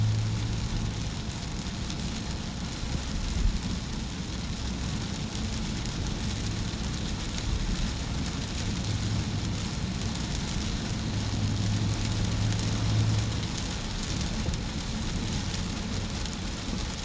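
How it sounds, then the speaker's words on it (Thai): Rain falls steadily during an evening drive on the frontage road beside the Bangkok–Pattaya motorway, a continuous dense hiss blended with road and engine rumble, even in level throughout with no talking. "ฝนตกด้วย"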